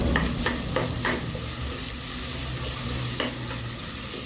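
Vegetables and tomato fry in hot oil with green peas and curry leaves for a wheat rava khichadi, giving a steady close sizzle punctuated by several sharp stirring scrapes of a spoon against the pan.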